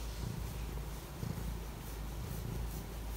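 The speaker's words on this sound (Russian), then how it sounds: "Ты научился громко урчать, ты молодец, кот." Steady, low rumbling purr of a cat, continuous and close, with soft rhythmic pulsing and no talking.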